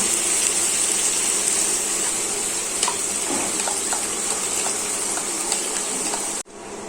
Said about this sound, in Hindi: अभी इसमें मैं थोड़ा सा पानी डालूंगी टेम्परेचर को कम करने के लिए